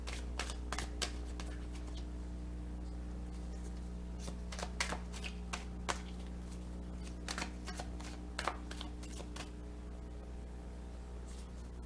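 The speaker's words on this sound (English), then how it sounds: "we're going to take the cards from the hand-to-hand shuffle" Tarot cards shuffled from hand to hand in scattered, crisp bursts, close by, over a steady low electrical hum.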